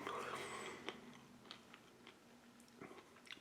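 Someone bites and chews a crunchy chocolate Ranger bar from a US MRE, with soft, close crunches and mouth sounds scattered through a quiet room.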